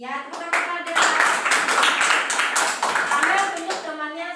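Indonesian schoolchildren applauding a classmate in a classroom, a burst of many hands clapping together close by, with voices talking over it.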